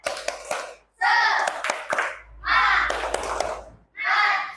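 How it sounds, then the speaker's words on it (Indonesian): Classroom children repeat a rhythmic spirit clap: quick clusters of close, sharp hand claps interleaved with loud unison chanting in short bursts, with brief pauses between rounds. "sekali lagi tepuk semangat"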